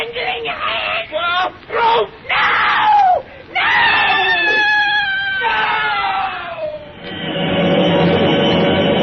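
A woman shrieks in a 1932 horror radio drama, with several loud, piercing screams broken by short gaps, each rising and falling in pitch, before a steady rushing noise takes over at the end.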